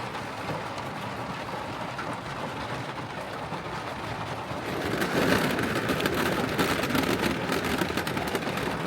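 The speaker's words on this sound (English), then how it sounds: "it's really picking up now, this rain here." Heavy rain drums on a camper van during a storm on a drive toward the Arctic in Sweden, a dense steady patter that grows noticeably louder and harder about halfway through.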